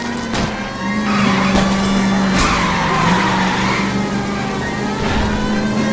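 Tires skid and squeal through a car chase in the video game L.A. Noire, a loud, sustained screech over a revving engine, with a few sharp knocks and no talking.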